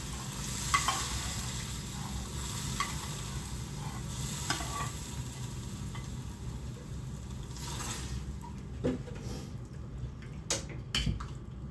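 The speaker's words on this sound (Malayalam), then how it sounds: "അപ്പോൾ നമുക്ക് തേങ്ങ വറുത്ത് അതും കറിവേപ്പിലയും ഇട്ട് കൊടുക്കും" Grated coconut and curry leaves roasting in a pan, a soft continuous sizzle with faint scraping stirs and a few sharper clinks near the end, fairly quiet and close.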